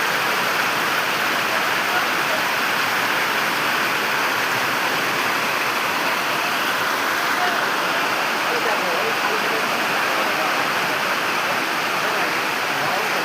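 Heavy rain pours steadily alongside rushing, flowing water in a waterlogged street where water is rising toward a shop, forming a dense, continuous wash of noise that stays loud and unbroken throughout.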